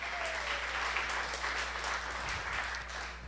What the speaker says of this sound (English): how about a nice round of applause for everybody who's working so hard making this conference?